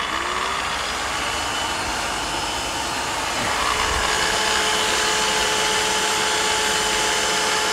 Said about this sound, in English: I'll have to put the vac on because it's chucking the dust out again.